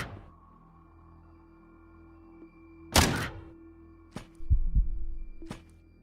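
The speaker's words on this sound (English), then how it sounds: "Can I just shotgun the desk?" A shotgun blast breaking a desk in the game Quasimorph: one sharp loud shot followed by scattered thunks and a low rumble, over a steady quiet hum.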